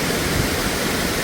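Vasudhara Waterfall near Mana Village pours down in a dense, steady hiss of falling and spraying water, loud and unbroken, with no voices.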